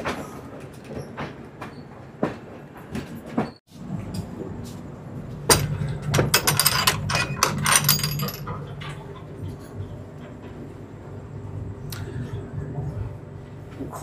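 Jhansi-bound Sangam Express crossing the Rajdhani Express, heard from aboard the Sealdah Rajdhani in 3rd AC: a steady rolling rumble swells into a loud, dense burst of rattling wheel clatter midway, then settles back to a rumble.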